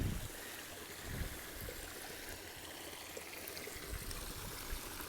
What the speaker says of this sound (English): There's a nice waterfall at this water crossing.